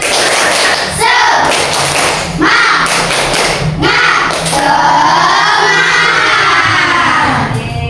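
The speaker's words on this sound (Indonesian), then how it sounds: "Tepuk semangat." A group claps together in a quick rhythmic pattern with loud chanting voices, bursts of clapping and shouting alternating in short phrases.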